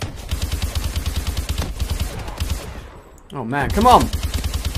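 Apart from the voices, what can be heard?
gunfire in a video game shooter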